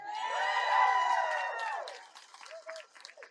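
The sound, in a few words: crowd cheering and clapping at a protest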